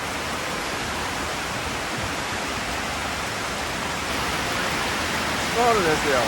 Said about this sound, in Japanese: すごい雨が降ってる。